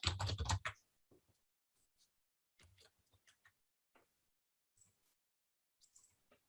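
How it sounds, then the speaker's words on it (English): Someone types answers on a computer keyboard, a loud burst of rapid keystrokes at first, then scattered, quieter single clicks and short clusters of key presses with pauses between them. "And then you type your answers."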